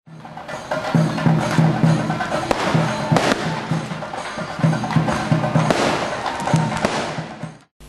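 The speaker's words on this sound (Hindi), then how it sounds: "मकराविलक्कू पर अयप्पा मंदिर परिसर में शानदार आतिशबाजी हुई।" Fireworks burst over the Ayyappa temple grounds during the Makaravilakku festival in Balco Nagar, a loud, dense stream of crackling pops and bangs that carries on without a break and then stops abruptly at the end.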